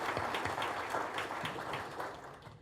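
Audience at a telecommunications conference in Oregon clapping, a moderate, fairly distant round of applause from a room of people, fading slightly toward the end.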